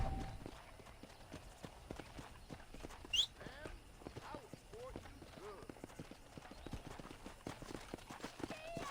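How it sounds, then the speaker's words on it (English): Horse hooves clip-clop at a steady walking rhythm in Red Dead Redemption 2, a war horse being ridden, with brief game sounds and a whinny-like accent midway. "Mount your horse"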